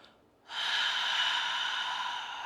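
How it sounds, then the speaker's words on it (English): A single long, steady breath is pushed out through the mouth, a close, airy whoosh that starts suddenly after a brief quiet moment and holds evenly to the end. "breathe out through the mouth"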